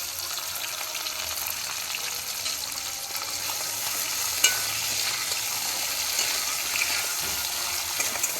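Drumsticks and potatoes frying in a pan give a steady, close hiss of sizzling oil with light crackles and an occasional stirring clink throughout.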